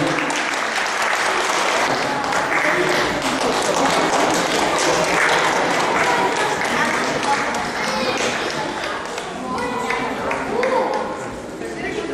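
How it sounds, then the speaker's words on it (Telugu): Sustained audience applause fills a community stage event as guests are welcomed up, dense and loud clapping throughout with crowd noise mixed in. "దయచేసి అందరూ చప్పట్లతో ఆహ్వానించండి"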